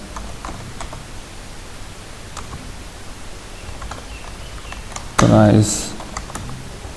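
Someone types on a computer keyboard, giving soft, quick clicks under steady background hiss, with a brief spoken word cutting in near the end.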